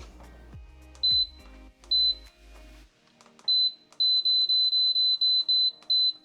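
An electric pressure canner beeps loudly, with two single beeps and then a rapid run of sharp, evenly spaced tones after a few soft thumps of handling.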